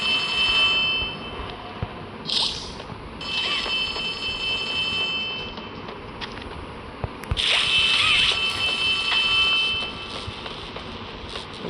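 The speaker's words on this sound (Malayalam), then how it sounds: "എന്തോ ഫോൺ അടിക്കണ്ടല്ലോ" A phone rings in the horror video game Poppy Playtime, repeated bright electronic ringing bursts separated by quieter mechanical game ambience, with no talk over it.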